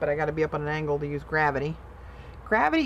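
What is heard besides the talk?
None of the usual background noises is heard.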